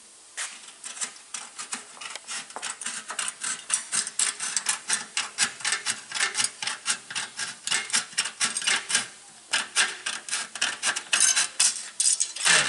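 Metal snips trimming a sheet metal wing rib along a marked line, producing a rapid, steady series of crisp snipping crunches close to the microphone, with a brief pause partway through.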